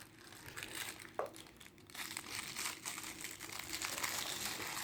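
Paper packaging crinkling as a toy box is opened, a sustained rustle with a sharp crackle near the start, close and moderately loud with no talk over it.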